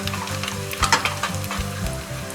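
Onions sautéing for mutton biryani until brown, sizzling loudly and steadily close up, with repeated stirring scrapes in the pan and no talking.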